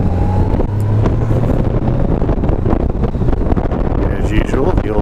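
A 2018 Honda Goldwing motorcycle pulling away in second gear, its engine a low steady drone under strong rushing wind buffeting the microphone throughout.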